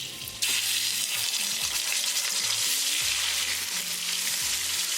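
Chopped onion hitting hot olive oil with cumin seeds, a sudden loud burst of sizzling and frying that holds steady and close, with occasional stirring scrapes underneath.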